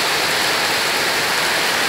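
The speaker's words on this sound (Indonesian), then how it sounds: "Ini hujannya sangat deras sekali." Heavy tropical rain pours down around a house near Banyuwangi, a dense, steady roar of water hitting surfaces with no pauses and no voices.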